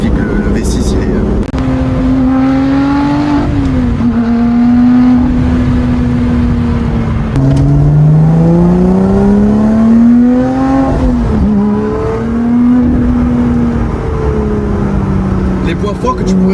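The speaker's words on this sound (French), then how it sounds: "l'échappement fait plus de bruit, beaucoup plus de bruit" A Lotus Exige 430 Cup with a V6 engine, stage 1 tune and full titanium exhaust, loud and close, its engine note rising and falling through sustained revs and accelerations, with a voice talking over it.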